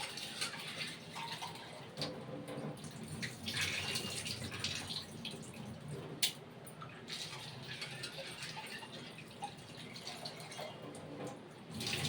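Sago pearls being washed in water for carrot payasam, a steady wet swishing and sloshing with small splashes and drips, close and continuous, no talking.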